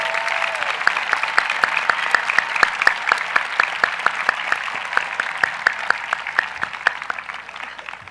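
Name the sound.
audience applause for graduating students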